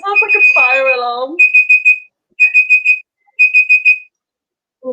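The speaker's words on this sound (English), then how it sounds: "That sounds like a fire alarm." A fire alarm sounds in repeated bursts of shrill, pulsing tones, three groups of about four beeps separated by short gaps, loud and close, with a person's voice heard briefly at the start.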